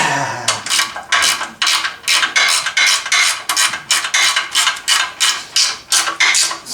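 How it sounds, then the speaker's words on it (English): A bolt on a Rough Country winch plate being tightened on a 1997 OBS Chevy truck: steady, evenly spaced scraping ratchet-like strokes, about two per second, loud and close with no speech. "I'll tighten it up by hand there"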